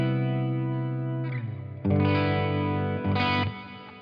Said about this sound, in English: which is just a nice reverb. You can do a ton of reverbs with this pedal.